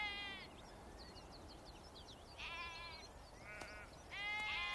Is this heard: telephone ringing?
no